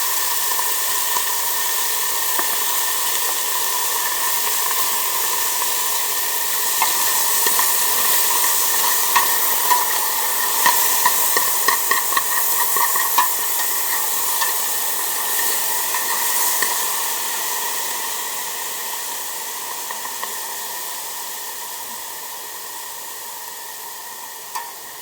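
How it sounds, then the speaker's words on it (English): Garlic and smoked paprika sizzling in a pot for chicken noodle soup, a steady hissing fry with some crackles and stirring, loud and continuous before easing slightly toward the end. "I'm going to go in with a tablespoon of garlic. And a spritzing of this smoked paprika."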